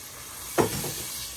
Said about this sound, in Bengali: সামান্য জল দিয়ে ভালো করে কষিয়ে নিচ্ছে।